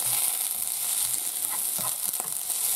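Onions fry in oil for a dopiaza with a steady, close sizzle, punctuated by soft stirring scrapes and small knocks, with no talking.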